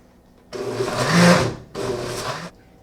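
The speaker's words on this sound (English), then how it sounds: "Okay, now it's time to start the blender." A blender whirs loudly in two bursts while mixing recycled paper for seed bombs, the first longer and rising in pitch, followed by a brief pause and a second shorter run.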